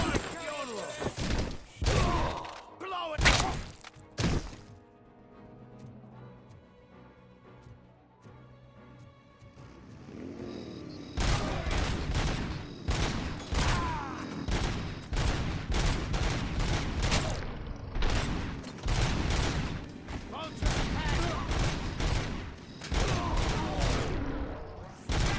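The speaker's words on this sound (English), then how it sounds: "Let's pick up a combat shotgun." Combat shotgun fire in a Robocop video game: a dense run of loud, sharp blasts and thuds that fills the second half, after a few separate shots and a quieter stretch near the start.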